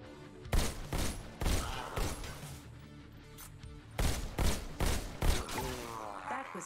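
Gunfire from two guns fired together in the VR video game Robo Recall comes as loud, rapid shots in irregular bursts, with some faint game sounds between them.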